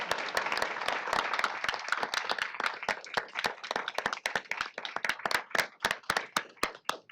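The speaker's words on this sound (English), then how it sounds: "If we can please give them a round of applause for their great innovation." A small audience at a state board of education meeting gives a round of applause, individual claps distinct and sharp, fairly close, thinning out and becoming sparser toward the end.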